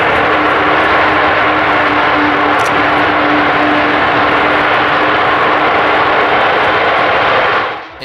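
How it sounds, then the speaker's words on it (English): A flying wing bomber in the PTFS video game drones with a loud steady engine roar and a faint sustained tone above it, close and constant until it fades at the end. "would make the most well-known noise of any aircraft"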